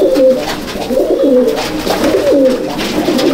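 A young Salara pigeon, red-eyed with sword-like wings, coos in a loft in steady rolling phrases, close and fairly loud, with other pigeons murmuring softly behind.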